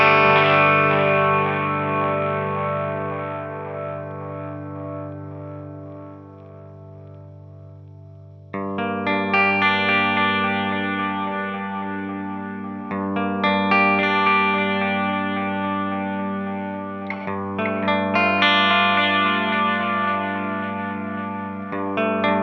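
A Strymon Timeline delay pedal is driven into oscillation, producing sustained, swelling repeats that build into a loud, ringing wash of layered tones. The feedback re-triggers and surges several times with no voice over it.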